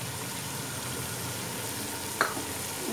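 Vegetables for beef chowmein, including carrots, onion, cabbage and capsicum, sizzle steadily as they are stir-fried in a hot pan, with a loud continuous frying hiss and one brief scrape of a utensil near the end.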